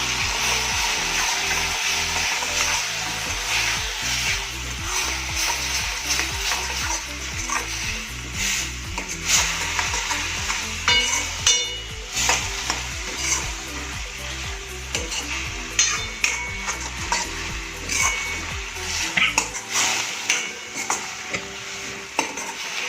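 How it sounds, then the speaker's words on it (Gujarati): Crushed tomatoes go into a hot spiced pan for cheesy paneer gotala, giving a close, continuous sizzle broken by repeated rhythmic scraping strokes of a spoon stirring the mixture. "હવે આમાં ટામેટાની જે ક્રશ કરીને રાખે છે એને આમાં એડ કરી દઈશું."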